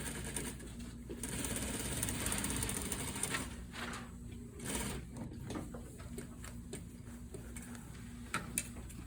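A sewing machine stitching a zipper fly, rapid mechanical ticking and clattering in short runs with brief pauses between bursts, close and fairly quiet, with no one talking.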